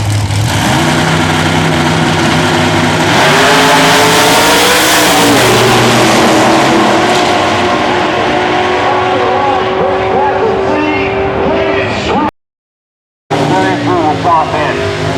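Drag racing cars, including a '92 Camaro, roar down the IHRA track at Rockingham, North Carolina. Engines scream loud and continuous as they pull away, while an announcer talks over them. A short dropout near the end leaves silence.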